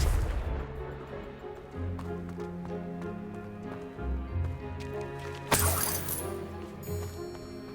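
A Confringo blasting spell goes off in the Hogwarts Legacy video game: deep booming thuds build under music, then a sharp, bright explosion bursts out near the end.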